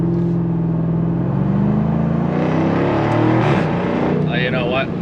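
A 2024 Jaguar F-Type R75 V8 launches hard under launch control, its engine note climbing steadily through the revs, loud and close, with a brief shift-like change near the end.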